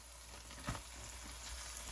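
Pork meat frying in a pot for jambalaya, a steady close sizzle with a brief louder crackle as the meat goes in, then continuing evenly.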